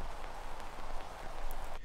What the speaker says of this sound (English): those pops and clicks and the noise and everything